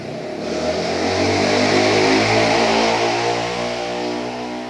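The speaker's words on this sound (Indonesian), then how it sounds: "ini suara motor keras sekali" A loud motorcycle engine roars close by, rising and then easing slightly as it passes, with a steady heavy rumble throughout.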